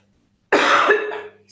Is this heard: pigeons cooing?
no